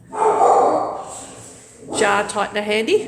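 A couple of dog barks ring out close by, one early and another overlapping a person speaking in the second half.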